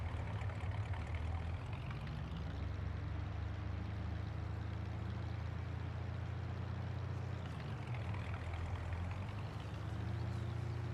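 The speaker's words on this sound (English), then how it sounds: "all you would hear is the sound of my shitty pickup and the wind blowing." A low, droning pickup truck engine in Farming Simulator 19 rumbles steadily, its pitch dipping and rising twice as it shifts, with a constant hum throughout.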